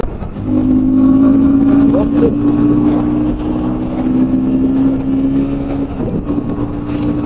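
A KTM Duke 160 motorcycle engine running while riding, a loud close steady hum with a strong low tone that swells slightly and eases off, wind noise beneath and someone speaking over parts of it.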